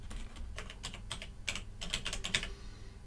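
Quick, close keystrokes on a computer keyboard come in an irregular burst of clicks, a few taps clustered together, with no talking over them.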